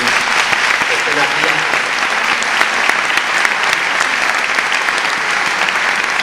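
A large audience applauds steadily and densely throughout at a 50th-anniversary celebration of the Valencian listings magazine Cartelera Turia, a loud, continuous wash of clapping with no break.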